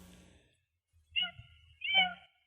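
Indoor house cat meowing after jumping up: two clear meows about a second apart, close to the microphone, preceded by a soft low rustle and thump.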